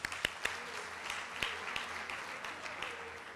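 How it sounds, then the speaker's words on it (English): Audience applause at a World Social Work Day symposium, a fairly faint, scattered spread of clapping with a few sharp individual claps standing out. "Memukoni, let's give her a round of applause"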